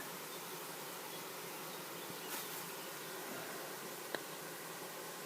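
A steady, dense hum of honeybees buzzing at a hive, evaporating nectar, fills the background, with one brief faint click near the end.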